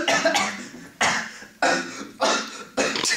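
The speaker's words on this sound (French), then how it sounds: "Toussez." Five sharp coughs in a row, each a sudden broadband burst that fades quickly, spaced about half a second to a second apart, close and clear.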